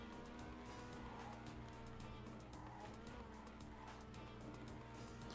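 Trackmania race car sliding sideways in a video game, a steady loud engine roar with tire screech running continuously throughout.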